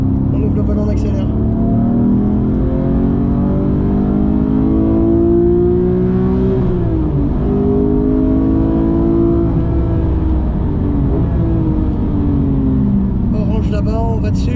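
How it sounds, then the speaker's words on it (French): A Porsche GT3 Touring with a manual gearbox pulls out of a corner on a coned track, its engine note climbing loud and steady with a brief dip partway through before rising again. "On ouvre le volant, on accélère."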